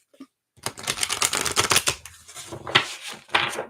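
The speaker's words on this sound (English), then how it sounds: "I always shuffle 3 times." Tarot cards are shuffled by hand during a live card reading, giving a quick run of close, crisp riffling and flicking with short pauses between bursts.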